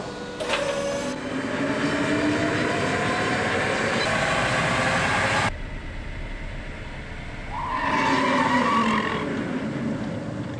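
A Tata Motors electric car runs on a roll and brake test rig, producing loud rolling whirs and mechanical whine in distinct bursts, with a brief quieter gap before another surge.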